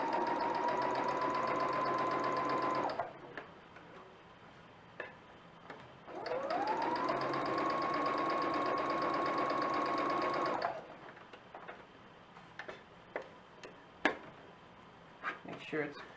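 A sewing machine stitches a smooth seam in two sustained, close runs of whirring motor with a short pause between, followed by quieter clicks and handling sounds.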